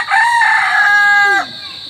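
A rooster gives one loud, close crow, a bright drawn-out call of about a second and a half that cuts off sharply into quiet.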